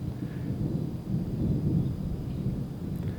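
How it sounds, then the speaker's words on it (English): Thunder rolls during a storm, a low, steady distant rumble that swells slightly and carries on for several seconds. "Some thunder."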